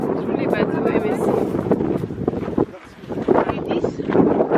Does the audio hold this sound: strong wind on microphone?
yes